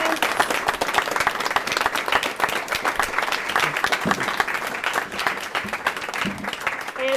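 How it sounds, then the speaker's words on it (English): An audience at a career and technical education signing day gives students a steady round of applause, dense clapping that stays loud and even throughout, with brief murmurs of voices mixed in. "And another round of applause for our students."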